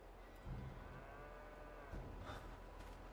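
Cattle lowing in the farm game Farming Simulator 22, a few faint moos drifting in from a distance over a steady low background rumble, with no talk.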